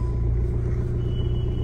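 A Hyundai i20 car engine idles after being started, a steady low rumble held close and even throughout with no talk over it.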